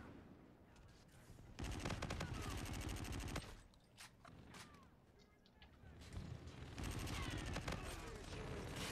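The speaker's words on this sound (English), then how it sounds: "I got the De-Atomizer" The De-Atomizer gun firing in a video game: rapid, dense bursts of automatic fire come in two long volleys with short pauses between them, loud and close over game ambience.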